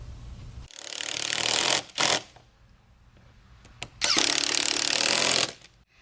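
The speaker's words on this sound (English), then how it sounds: "now we're just going to tighten the screws back up and tighten up the clamp" Screws and a clamp are tightened on a Land Rover LR3 air filter housing, likely with a power driver: close, buzzing whirring bursts of a second or more, separated by quiet gaps and small clicks.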